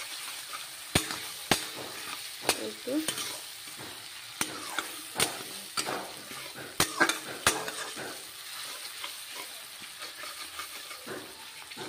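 A spoon stirs Rahu fish curry masala sizzling in a frying pan, with a steady frying hiss under a series of sharp scraping clacks against the pan at irregular intervals, close and fairly quiet, with a brief spoken word.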